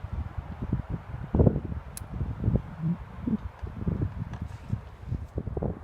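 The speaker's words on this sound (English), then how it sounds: "It is quite windy and fairly chilly as well" Gusty, chilly seaside wind at Rhyl buffets the microphone during sea fishing in irregular low thumps and rumbles, rising and falling throughout, with no speech.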